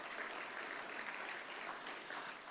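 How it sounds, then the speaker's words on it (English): Steady applause from an audience at the Kubota High Limit Racing Championship awards banquet, a dense even wash of clapping from many hands that lasts throughout, with no talk over it. "How about a round of applause for that as well?"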